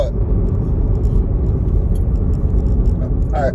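Inside a moving car, a loud, continuous low road rumble and engine hum fill the space steadily, with faint higher rattles near the end.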